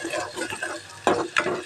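Chopped onions going into hot oil in a pan for prawn curry, a soft sizzle with a couple of sharp clinks and scrapes from the stirring spoon, brief and close.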